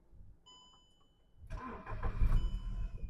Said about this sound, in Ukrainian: Перевірка стану роботи двигуна.